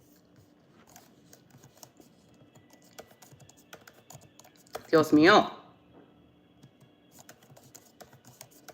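Someone types on a computer keyboard set to the Hangul layout, with irregular light clicks and taps running throughout, briefly interrupted by a louder spoken exclamation.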